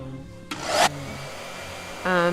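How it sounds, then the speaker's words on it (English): A blow dryer used to dry paint gives a short, loud whooshing blast of under half a second, surrounded by quieter background music. "Blow dryer."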